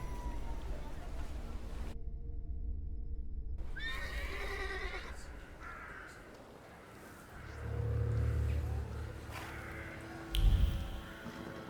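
Horse neighing in The Thaumaturge video game, a loud high whinny that rises and falls over about two seconds, followed by snorts, low hoof and cart noise, and a quiet outdoor ambience.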